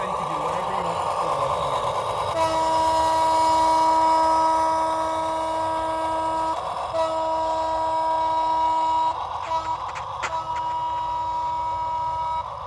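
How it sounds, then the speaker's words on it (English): G scale model train locomotive horn sounding a sustained multi-tone chord, held for several seconds, briefly broken, then resumed with short toots near the end, loud and close over background speech. "Whatever you want with the horn."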